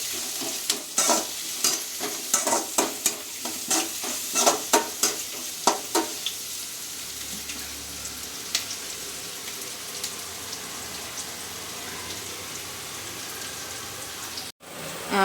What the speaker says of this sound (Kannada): ಮತ್ತು 2 ಒಣಮೆಣ್ಸಿನ್ಕಾಯಿನ ಹಾಕ್ತಾ ಇದ್ದೀನಿ. ಇದನ್ನು 2 ನಿಮಿಷ ಫ್ರೈ ಮಾಡ್ಕೊಳ್ಳಿ.